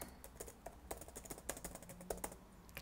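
Search keywords typed on a computer keyboard into the Key Collector SEO tool, a quick, uneven run of light key clicks at close range, fairly faint, with no talking.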